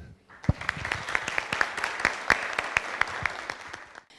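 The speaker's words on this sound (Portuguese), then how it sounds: "Uma salva de palmas, por favor." Applause from a seated audience at a cannabis forum in Brazil: steady clapping from many hands that builds in the first half-second, holds fairly even for about four seconds, then stops abruptly.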